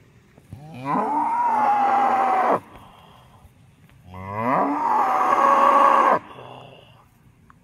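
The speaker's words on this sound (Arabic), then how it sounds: "هذا صوت حيوان البقر زي ما شايفين." Two long, loud cow moos, each lasting about two seconds, separated by a short pause, with a low, drawn-out bellowing tone and no other sounds.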